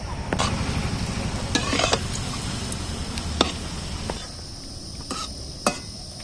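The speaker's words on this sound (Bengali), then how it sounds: "এইভাবে সব পিঠেগুলো ভেজে নেব।" Jackfruit gulgula pitha frying in hot oil, a steady soft sizzle and bubbling throughout, with a few sharp clinks of a utensil against the pan.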